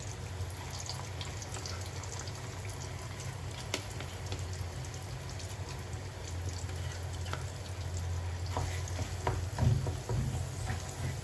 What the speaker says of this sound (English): You have to fry this until the chili is nice,